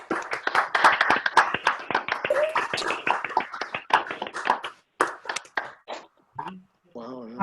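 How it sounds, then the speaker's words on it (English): Meeting participants on a video call clap together, a dense stretch of overlapping hand claps and taps over several seconds that thins out toward the end, with a brief voice at the close. "I think they deserve a round of applause."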